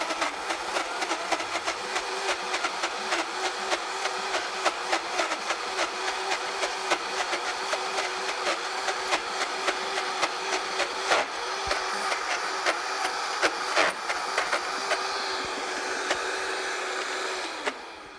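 A Vitamix food prep system blender runs steadily, grinding peanuts into peanut butter with a loud, sustained motor whine and rattling, churning texture that holds for about eighteen seconds without talk.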